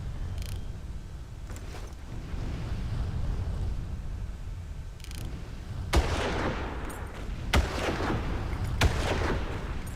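Sniper rifle fire in the Far Cry video game: a few sharp, loud shots spaced seconds apart over a low rumbling ambient drone, with fainter distant thuds earlier.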